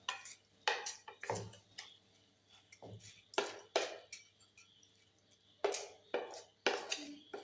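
Kallappam batter being stirred in a vessel with a utensil, giving irregular close clinks and scrapes in short bursts separated by quiet gaps.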